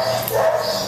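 A hound dog gives a short, close bark or yip, a single brief vocal burst with no one speaking over it.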